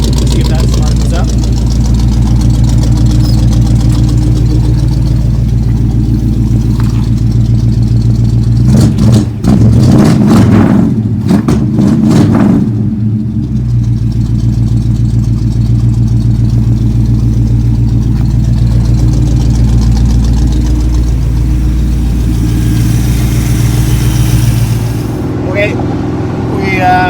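A small-block Chevy 350 V8 in a 1979 Squarebody truck with a new head gasket idles close and loud, a steady low rumble that swells briefly midway with a few sharper revs before settling again.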